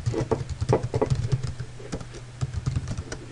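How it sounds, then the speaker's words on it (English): Close, quick clicking keystrokes on a computer keyboard as a URL is typed, in uneven bursts with short pauses and a faint low hum underneath. "So I type in the URL"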